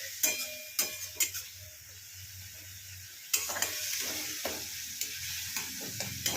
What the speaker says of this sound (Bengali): মশলাটা একটু ভালো করে কষিয়ে নিই